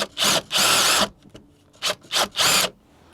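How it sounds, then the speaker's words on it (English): Screws are driven into a cheap shed panel with a power driver, heard as four or five loud close bursts of whirring, each lasting under a second, separated by short quiet pauses. "Now I can get some screws in"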